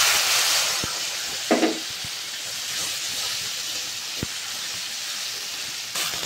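A ground paste of ginger, poppy seed, coconut and mustard sizzles in a hot pan, giving a steady close hiss that settles down, with a few sharp clicks and no speech.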